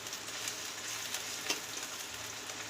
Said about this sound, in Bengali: চলো এটা ভেজে নিই